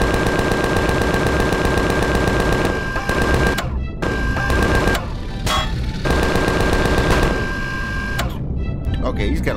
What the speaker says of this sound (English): So there are people on the ground shooting at me.